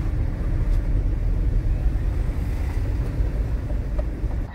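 A car driving along, with a loud, steady low rumble of engine and road noise filling the cabin throughout and no speech.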